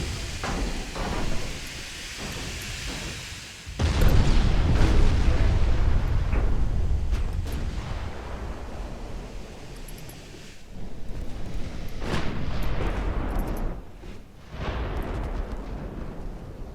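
Naval gunfire during a battleship engagement in the game Ultimate Admiral Dreadnoughts: heavy, loud booming blasts with rumbling decay, a big salvo near the start followed by further rolling shots and explosions.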